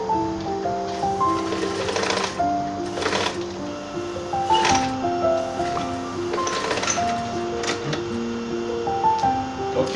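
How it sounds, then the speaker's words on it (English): A sewing machine stitching the hem of an A-line gown, running in loud close bursts of rapid whirring with brief pauses and mechanical clunks between runs, repeated several times without speech. "So continue your sewing till you finish it at the down part."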